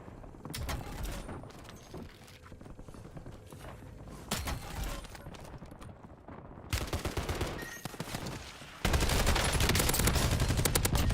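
Video game gunfire aimed at a fallen enemy's body: repeated bursts of rapid shots with scattered footsteps, growing louder and denser toward the end into a sustained barrage.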